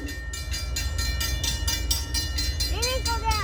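A train rolls past a crossing on a pedestrian path in a metropark with a rhythmic chugging pulse, and near the end rising wavering tones of its horn cut in, fairly close.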